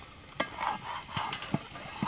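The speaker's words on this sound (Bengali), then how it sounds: "আপনারা চিংড়ি মাছ নারকেলটাকে ভালো করে কষিয়ে নেবেন" Prawns and grated coconut fry with spices in a pan, a spatula scraping and stirring in a few soft strokes over a faint, low sizzle.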